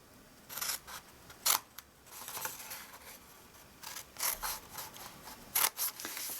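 Scissors snip through card stock for a stitched-die sweet treat gift box, cutting up to the score lines; a handful of sharp, quiet cuts spaced irregularly, close up, with no talking.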